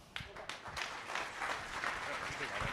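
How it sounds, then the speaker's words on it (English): Scattered claps build into broader applause as a funding partner is invited to the stage at a Calgary pitch-night event, heard at moderate distance with some crowd murmur mixed in. "Please give him a round of applause."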